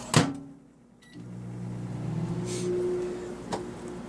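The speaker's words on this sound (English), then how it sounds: "I could just microwave them both" A microwave oven hums steadily after a door clunk and button beep, with a brief click near the end, close and fairly quiet in an otherwise silent kitchen.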